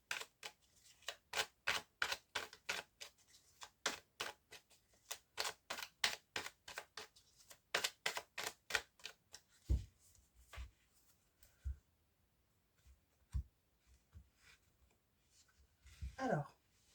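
Tarot cards are shuffled in a fast, rhythmic run of crisp riffling flicks, followed by a few sparse soft taps and slides as cards are drawn and laid down.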